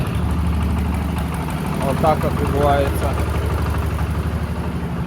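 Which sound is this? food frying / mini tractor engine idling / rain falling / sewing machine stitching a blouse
mini tractor engine idling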